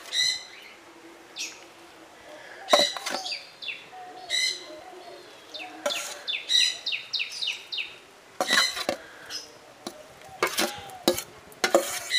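Fried carrots being stirred with cashews and raisins in a pan for carrot halwa make sharp, close scraping strokes at irregular intervals over a light sizzle, while birds chirp and sing clearly in the background.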